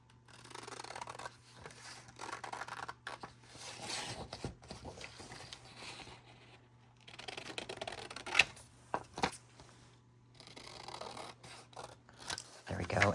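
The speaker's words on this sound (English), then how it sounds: "Why don't we grab the scissors" Scissors cut a paper book page in several short bursts of snipping and rustling, quiet and close, separated by brief pauses.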